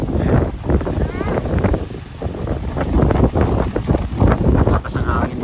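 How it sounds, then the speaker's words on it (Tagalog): Strong wind buffets the microphone in continuous heavy gusts, a loud rumbling roar throughout with faint voices underneath. "Lakas ang hangin dito guys."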